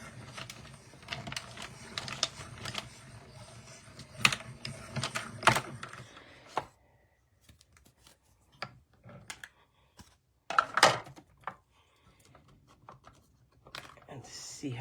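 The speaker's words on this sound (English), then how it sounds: "So I'm just gonna cut up a whole bunch of these." Scissors cut paper card pieces for card making, giving close, irregular snips and clicks in bursts, separated by a few quieter gaps.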